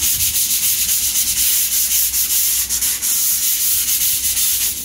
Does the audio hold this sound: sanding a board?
yes